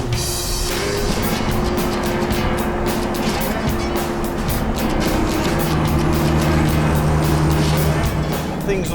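An old truck engine grinds along a hot outback road in a steady, loud, rough drone with rattling chassis noise, under scattered talk.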